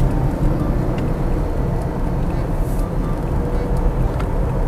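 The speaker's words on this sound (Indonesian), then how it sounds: "Nah, sekarang saya akan ngebut sedikit ya." A Wuling Binguo car accelerates from 25 km/h, heard from inside as a steady, loud low engine and road rumble that continues without pause.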